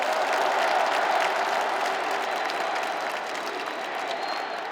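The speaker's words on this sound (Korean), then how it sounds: "이재명 동지에게도 뜨거운 박수 보내주십시오." A large audience applauds at a Democratic Party presidential candidate selection convention, a dense, steady wash of clapping that fills the whole stretch and eases slightly toward the end.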